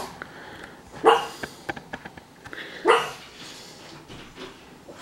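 A pet dog barks indoors during a miniature-figure unboxing, letting out two distinct barks a couple of seconds apart with small scuffling and clicking noises in between.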